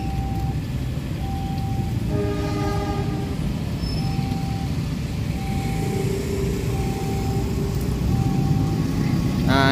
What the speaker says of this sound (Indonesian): Nah, itulah kereta api Kuto Jaya Utara ya.